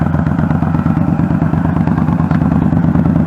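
A motorcycle engine hums loud and steady at low speed through a tight U-turn, a close, even mid-range drone with no talk over it.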